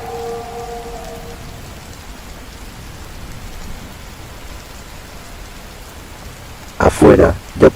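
Steady rain falls throughout as a continuous hiss, with a brief louder burst of rough noise near the end.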